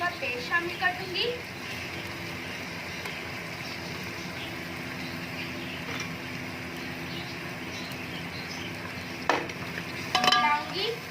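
Green chili paste masala roasting and being stirred in a pan for beef paya, a steady low sizzle with soft scraping strokes and a couple of louder clanks near the end, under a quiet room.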